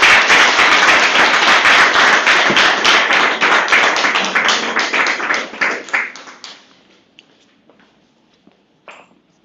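An audience at a university humanities faculty anniversary ceremony applauds a wind ensemble with loud, dense clapping. It thins into scattered claps and dies away after about seven seconds.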